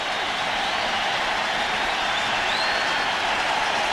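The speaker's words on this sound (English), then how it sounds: "Crowd noise here in Atlanta." The crowd roars at Turner Field in Atlanta during Game 6 of the 1998 National League Championship Series: a steady, loud, hissing wash of stadium noise that stays constant throughout.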